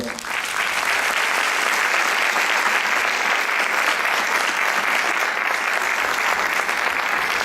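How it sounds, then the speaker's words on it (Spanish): Sustained audience applause fills a hall after a talk at an education event, steady and dense, loud and close throughout with no gaps. "le damos un aplauso"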